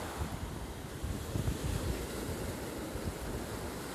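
Ocean waves washing onto a Florida beach, a steady, broad rush of surf with wind buffeting the microphone, continuous and fairly loud with no voices.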